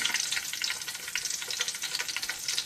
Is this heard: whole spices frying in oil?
yes